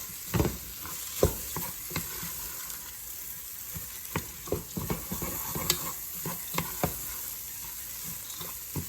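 Vegetable rice stirred in a hot pan, a continuous gentle sizzle of frying broken by irregular scraping and clattering strokes of the spoon, close and fairly quiet, with no talking.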